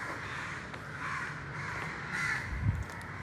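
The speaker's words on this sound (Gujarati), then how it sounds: "કાગડાઓ બોલે છે અવાજ આવે છે મસ્ત" Crows cawing in the early morning at about five o'clock, several harsh caws repeating at moderate distance over a steady outdoor background hum, with a louder call near the end.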